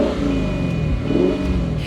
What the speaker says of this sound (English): it's powered by a naturally aspirated 5-litre V8 petrol engine